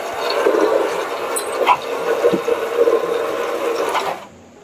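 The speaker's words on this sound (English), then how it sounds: "get up there with a hose and rinse out the gutters and get all that crud and dirt and slimy stuff out of there" A garden hose sprays water to rinse dirt and slime out of house gutters, making a steady rushing, splashing sound that cuts off abruptly near the end.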